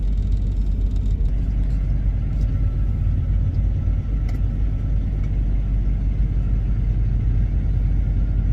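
A semi truck creeping along at about walking pace in first gear, a deep continuous engine rumble close by with a low, steady drone and occasional faint clanks.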